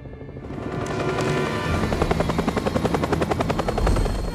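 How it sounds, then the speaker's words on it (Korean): Film scene of a military helicopter carrying soldiers descending onto a rooftop, its rotor thumping in a loud, fast rhythmic chop that grows more distinct and pulsing as it nears, with no voices. "그때 옥상으로 군인들을 태운 헬기가 내려오는 걸"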